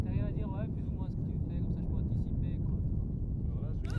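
A model aircraft in flight gives a steady, droning engine whine with slightly wavering pitch, heard continuously over heavy low wind rumble.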